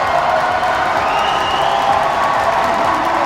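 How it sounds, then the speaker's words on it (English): Crowd at a men's and women's bouldering World Cup final in Toronto cheering and applauding steadily to urge on a climber, a continuous dense roar of clapping and voices throughout. "So the crowd are trying to get behind Sean now to let him know."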